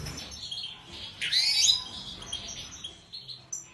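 A goldfinch (saka) at a breeding setup gives a single bright, twittering chirp in the middle of the clip, close and clear over a soft background, with no speech.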